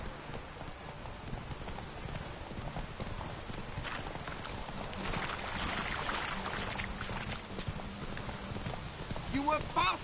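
Horse galloping in the video game The Witcher III, rapid clip-clop hoofbeats over a rainy background, with a rider's voice and a brief whinny near the end.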